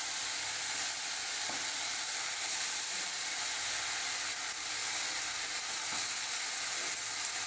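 Onion, garlic, ginger and tomato paste fries in hot oil with a steady, dense sizzle and hiss that holds evenly throughout, with a few faint clinks of stirring and no voices.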